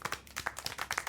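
A single pair of hands claps about a dozen times in a quick, slightly uneven rhythm, close and crisp, in a scene from Syberia: The World Before.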